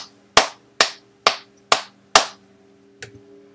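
Five sharp, evenly spaced claps followed by a fainter sixth, each a crisp burst with a quick decay, heard alone over a faint steady hum in the Starfall game.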